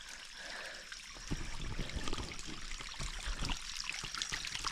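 Spring water trickles out of rock in a village, a soft continuous splashing stream heard from nearby at low level, with no voices over it.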